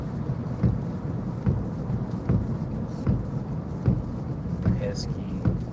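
Steady drizzly rain on a wet day during a drive, a continuous close hiss of falling drops with faint low rumbles and a brief higher tone near the end, no talk.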